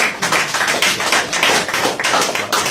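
A church congregation claps in praise to God, a dense run of sharp, rapid hand claps that is loud and sustained, rising and falling in bursts with no talk over it.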